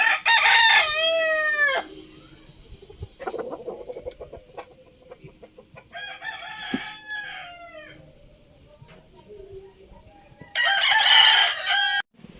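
Gamefowl roosters crow loudly at the start, midway, and near the end, with soft clucking and quiet farmyard sounds in between.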